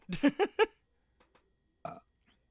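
Three quick, loud burps in a row, close and croaky, followed by a couple of faint small clicks and one more rougher burp after a short pause.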